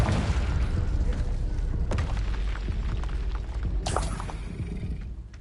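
A Confringo spell explodes in the video game Hogwarts Legacy, producing a deep, rolling boom with rumbling debris and a sharp burst near the end, loud and sustained.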